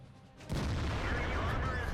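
A tank gun in World of Tanks fires once with a heavy boom, followed by a loud, sustained rumbling roar of battle noise.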